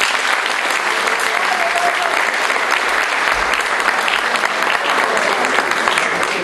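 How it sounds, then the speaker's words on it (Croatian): An audience in a school hall gives sustained applause at a secondary school awards ceremony for graduating students. The dense, even clapping runs loud and unbroken from start to finish. "Pozdravite ih aplauzom!"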